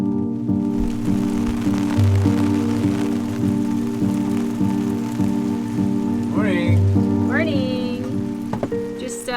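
Rain falls steadily at a campsite on a road trip toward Alaska, a dense, loud patter drumming on a nearby surface throughout, with a steady engine-like hum beneath and a brief chirp or squeak near the end.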